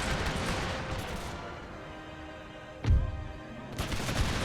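Musket volley gunfire in Empire Total War, a dense crackle of many distant shots over a steady battlefield din, with one heavy boom in the middle.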